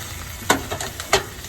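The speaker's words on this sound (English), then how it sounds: "The broccoli rabe started turning bright green. The garlic started getting a nice brown color. We're just going to let this saute for a couple more minutes." Broccoli rabe and garlic sauté in a hot pan, giving a steady soft sizzle broken by a few sharp scraping stirs of a utensil.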